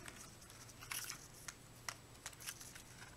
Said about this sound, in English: And take my scissors